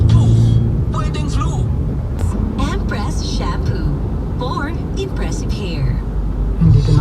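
Heavy road traffic near the Manila Hotel and a tollgate: a steady low engine rumble with passing vehicles under close, continuous talking.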